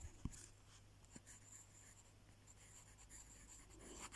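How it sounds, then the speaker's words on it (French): Pen or pencil writing by hand during a French lesson, a faint continuous scratching with a brief louder tap near the start, soft and close against low background hum. "donc j'écris"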